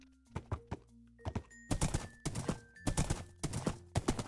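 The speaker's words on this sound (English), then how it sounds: "ride around on a dead horse." Hooves clip-clop at an irregular walking pace in a GGCraft video game, crisp and close, with a few louder clusters of steps and occasional tonal game sounds behind them.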